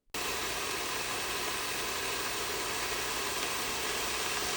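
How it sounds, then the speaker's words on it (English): A blender starts abruptly and runs at a steady, loud motor whir, puréeing chili peppers, garlic, onion, cumin, oregano, cloves, cinnamon, black pepper, salt and vinegar into a smooth birria sauce. "Blend until very smooth."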